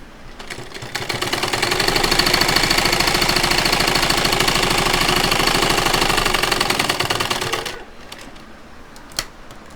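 Sewing machine stitching a side pocket onto palazzo pants, running in a fast, steady mechanical clatter for several seconds, then stopping into quieter handling noises and a faint click.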